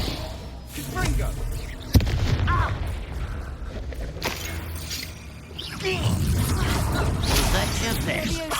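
Confringo fire spell blasts in the Hogwarts Legacy wizard game, with a sharp bang and booming, crackling bursts amid clanking mechanisms and combat noise, while voices speak over the action.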